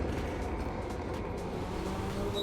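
McLaren 720S engine in a racing simulation game, a steady muffled drone with a low rumble holding constant, no clear revving or gear changes.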